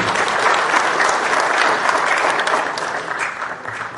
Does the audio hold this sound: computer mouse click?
no